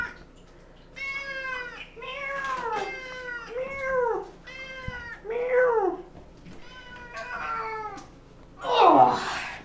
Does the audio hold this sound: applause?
no